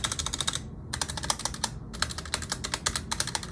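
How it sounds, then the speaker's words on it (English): Typing on a Wormier K87 clear mechanical keyboard with stock stabilizers: rapid, loud clacking bursts with the rattly spacebar and keys, in close, crisp clusters separated by brief pauses, with no talking. "The spacebar doesn't sound horrible, but still a bit of rattle."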